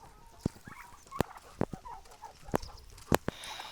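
Young roosters clucking on a farm, with scattered short calls and sharp peaks spread over a few seconds against a busy yard background, no talk.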